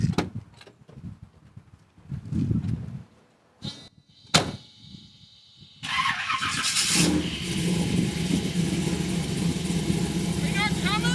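A Chevrolet C30 truck engine runs steadily after a door thump and some movement, its rumble rising and holding loud and close as the truck pulls away, with voices talking earlier in the clip.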